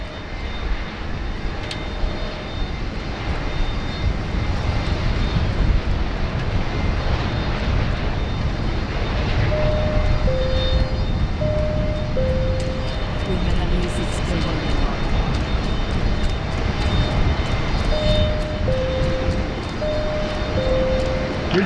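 At Sydney Airport, an American Airlines Dreamliner jet airliner drones steadily with a continuous engine roar, while voices talk over it throughout.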